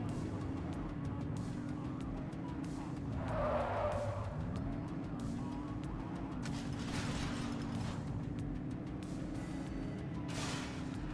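A car in The Precinct brakes hard with a long tire squeal and skid over a steady engine drone, at moderate, constant loudness.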